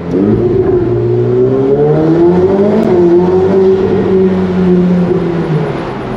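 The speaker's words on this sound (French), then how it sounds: "Alors, petite accélération." A Ferrari 488 Pista engine revs and accelerates steadily, its deep roar rising in pitch and staying loud and close throughout.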